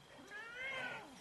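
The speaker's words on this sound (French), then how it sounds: "Et voilà le minou." A domestic cat gives a single drawn-out meow, fairly close and moderately loud, rising and then falling over about a second in a quiet room.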